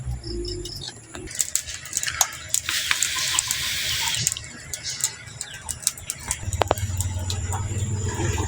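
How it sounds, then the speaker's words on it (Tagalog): Water runs and splashes into a pot for a few seconds, a hissing pour, with birds cooing softly in the background. "Lagyan ng tubig."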